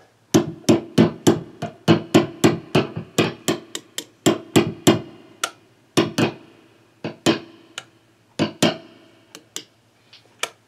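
A screwdriver tapping on the body of an electric guitar plugged into an amp, a series of sharp, loud knocks, quick and clustered at first, then sparser with pauses between taps.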